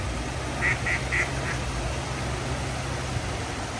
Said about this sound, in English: Yo, duck, shut up.